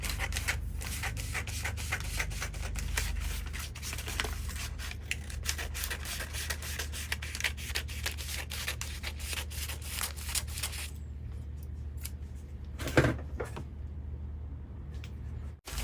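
Scissors cutting fabric for a cowl-neck kimono blouse, with a rapid run of close, rhythmic snips and rasping for about eleven seconds, then quieter with a single sharp cut near the end.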